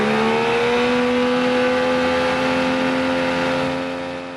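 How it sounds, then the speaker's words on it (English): An outboard boat engine held at advanced throttle runs loud and close, a steady high-revving drone with a faint settle toward the end, connected to a vacuum gauge and clear fuel line for a fuel delivery test. "Start the outboard."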